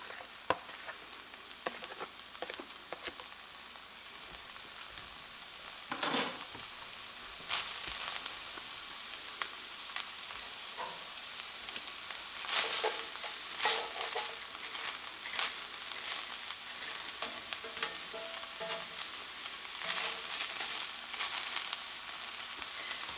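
Ground beef and vermicelli fry in a skillet for goulash, a steady, even sizzle with scattered crackles and occasional stirring scrapes, close and moderately loud, with no voices.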